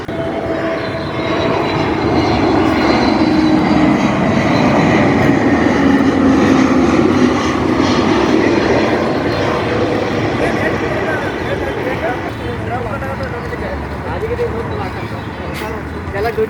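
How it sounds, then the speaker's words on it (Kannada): A jet airliner passes low near Bengaluru airport with a loud, sustained engine roar that swells and slowly fades. Someone talks over the noise. "ಒಂದೊಂದು ನಿಮಿಷಕ್ಕೆ ಒಂದೊಂದು ಫ್ಲೈಟ್ ಬರ್ತಾ ಇರ್ತದೆ"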